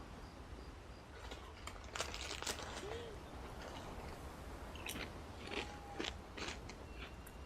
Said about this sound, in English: They're gonna hear me crunching.